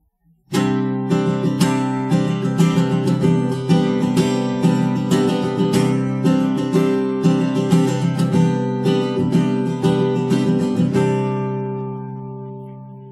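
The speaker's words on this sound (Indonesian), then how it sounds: "suara yang teman-teman dengar, suara gitar ini ditodong lewat mikrofon ya" A Lava Me 3 smart guitar, acoustic-sounding, strums steady repeated chords picked up by a microphone, bright and close, ending with a ringing chord that fades out.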